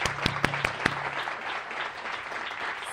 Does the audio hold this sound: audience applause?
yes